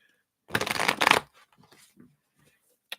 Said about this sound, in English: let me just give these a shuffle here.